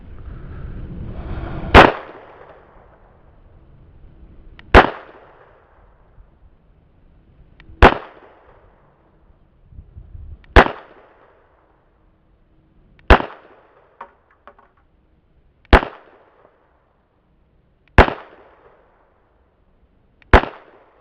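Eight sharp gunshots from 225 grain truncated cone bullets loaded over 4.4 grains of Bullseye ring out across a chronograph on an outdoor range. They come at a regular pace, each loud crack decaying quickly.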